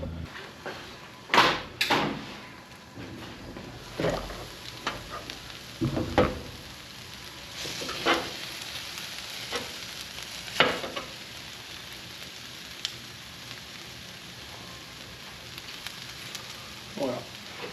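Chicken frying in a pan, a steady sizzle running throughout with intermittent louder clatters and scrapes as it is stirred and moved, no talking.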